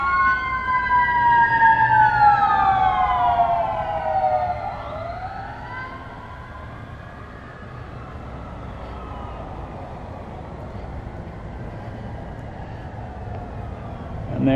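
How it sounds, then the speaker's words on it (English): Emergency vehicle sirens pass by outside an abandoned Ryan's restaurant, loud wailing tones sweeping down and fading into distant traffic rumble, with another siren starting at the end. "I apologize for all the sirens and things. Ever since I got here, they've been going by every couple of minutes."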